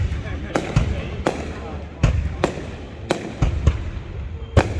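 Fireworks burst in a New Year celebration for the Year of the Cat, sharp explosions cracking one after another at uneven intervals, some near and loud, with a crowd murmuring underneath.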